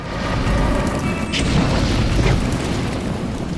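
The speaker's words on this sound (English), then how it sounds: "I think I just stepped in a landmine" A landmine detonates in the video game Bioshock Remastered, producing a loud, deep explosion whose rumbling roar fills the whole span without fading.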